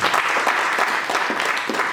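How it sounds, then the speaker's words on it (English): Applause from a seated audience at a university digitalisation workshop, a steady, dense wash of many hands clapping at close range for about two seconds, with no voices over it. "A round of applause for him."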